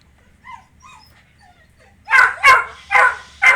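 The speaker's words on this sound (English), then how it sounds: "my dog might start barking" A dog barks four times in close succession, loud and near, after a stretch of faint whimpering and whining in an otherwise quiet room.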